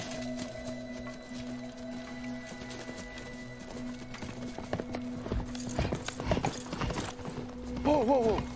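Horse hooves clip-clop on the ground in an uneven, quickening rhythm under a steady low tone, ending with a horse's whinny close by.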